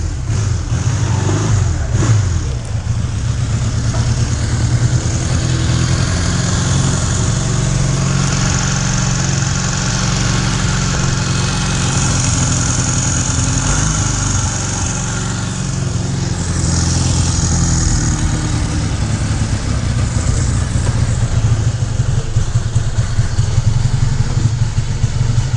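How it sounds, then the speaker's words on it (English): A 1982 Honda CM200T Twin Star motorcycle engine idles with a steady, close, throbbing low rumble that holds evenly throughout, with no voices. "this is a classic Honda Twin Star Cm200T"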